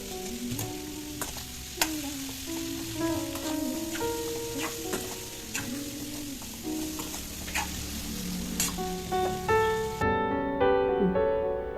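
Turmeric and spices are stirred with bitter gourd pieces in a pan over low heat, giving a soft continuous sizzle broken by repeated scraping and clinking of a spoon against the pan, with faint tonal background sounds toward the end.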